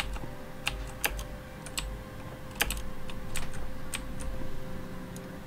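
Computer keyboard typing during a game of Starbound, a run of scattered sharp key clicks in an irregular rhythm, close and fairly quiet, with no talking.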